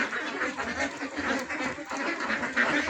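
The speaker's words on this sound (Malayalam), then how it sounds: "നമ്മൾ കുട്ടനാടൻ താറാവുകൾ വിൽപ്പനയ്ക്കുള്ളതാണ്." Kuttanad ducks quacking continuously at moderate distance, a busy overlapping chorus of calls from a flock with no break.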